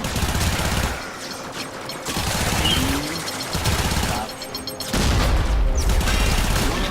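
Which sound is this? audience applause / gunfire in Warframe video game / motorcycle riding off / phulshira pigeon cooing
gunfire in Warframe video game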